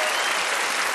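Studio audience on a Russian evening TV show breaks into loud, dense, continuous applause, a brief burst heard close and alone.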